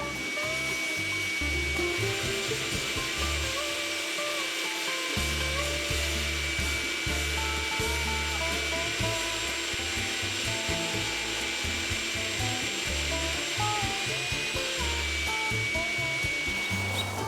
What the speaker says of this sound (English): we suck up all the dirt out of there, get a nice clean hole, and all the dirt goes down into the shop vac.